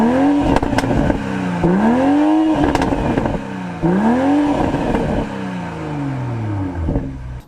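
A BMW M340i performance sedan with a sound-tuned sport exhaust is revved repeatedly in a rev battle, several sharp rising blips falling back to idle with crackles and pops, loud and close, with no talking.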